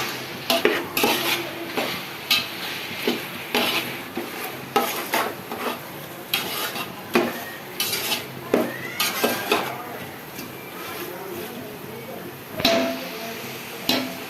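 Chicken biryani masala frying in a pot, with a low sizzle beneath frequent loud scrapes and clanks of a ladle against metal, close by, while people talk intermittently.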